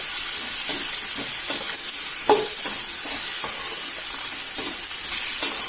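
Radish chutney ingredients sautéed in a pan, with steady close sizzling and frying hiss and repeated soft scrapes and knocks of stirring throughout, no voices.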